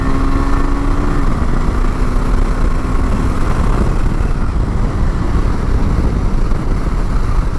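A KTM 390 SW motorcycle engine drones steadily while riding, heard close and loud over heavy wind rush, with a short rising pitch near the start as revs change.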